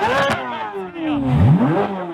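A Chevrolet Corvette Z06 engine revs hard outdoors in freezing weather, with two rising and falling throttle blips that sound close and loud, and no talk over them.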